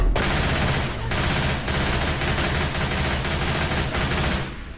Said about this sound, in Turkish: Biraz pompalı çekeyim.